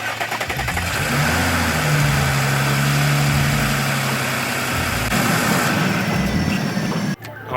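An Audi SQ5 engine cranks and catches after an oil change, then settles into a steady, even idle, close and loud throughout.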